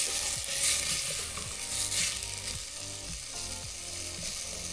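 Chopped carrots, celery and onions sizzle steadily in a pan for a sauce, a constant bright frying hiss with repeated stirring scrapes and clacks of a utensil, close and fairly loud with no talking.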